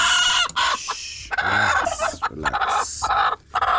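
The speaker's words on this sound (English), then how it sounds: "I think those are chicken." Chickens cluck and squawk loudly at close range, a busy overlapping flurry of calls with a crowing note among them and brief gaps between bursts.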